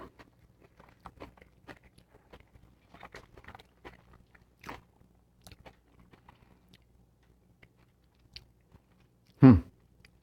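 Bites into a chicken quesadilla with sour cream, with soft, close chewing and faint crunches spread across the clip and one louder sound near the end.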